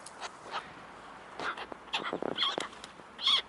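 A crow at a city pond in Kaliningrad gives a few short, faint, meow-like calls, spaced unevenly among soft outdoor noise and other birds.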